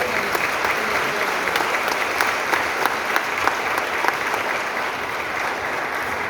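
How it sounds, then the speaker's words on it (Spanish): An audience applauds the celebrated composer Domingo Chalá Valencia of Bojayá, a dense, steady wash of many hands clapping at close range that holds evenly throughout without talk. "un aplauso para Domingo, por favor"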